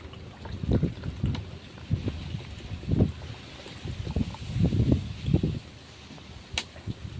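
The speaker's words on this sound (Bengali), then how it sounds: "হাওয়া দিচ্ছে প্রচুর বন্ধুরা, ওই জন্য উনুনটা বারবার আমার নিভিয়ে যাচ্ছে।" Strong wind buffets an outdoor clay stove, rumbling in low gusty bursts that rise and fall irregularly, with a faint background hum.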